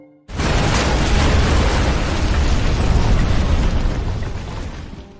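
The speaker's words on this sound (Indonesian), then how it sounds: "Yehya telah memasang bom waktu pada Mousa yang kemudian meledak" A time bomb detonates and destroys a robot: a sudden, loud, broadband blast erupts and sustains as a roaring, crackling rumble for several seconds before beginning to fade.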